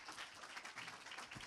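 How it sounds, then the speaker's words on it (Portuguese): A seminar audience gives quiet, distant applause to welcome speakers, a steady, even patter of many hands that carries on throughout without any talking. "com uma salva de palmas, por favor"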